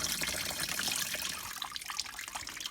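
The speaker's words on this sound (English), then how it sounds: "I just poured about a quarter gallon of water in the radiator. That's what's coming out now." Water drains out of a 1993 Chevy Lumina APV radiator during a coolant flush, a steady close splashing trickle that holds for a few seconds and then eases slightly.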